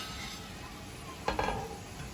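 Lid lifted off a pan of mushrooms and vegetables cooking on low heat: one quiet, brief metallic clink and clatter over a soft, steady sizzle.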